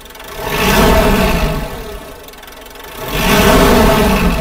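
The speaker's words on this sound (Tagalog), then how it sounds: "So pakikinggan po natin kung malaki po ang naging pagbabago sa tunog po ng makina nito." A Mitsubishi Montero engine revs twice, rising from idle to a loud, rough roar and falling back between pushes, heard up close with no talking.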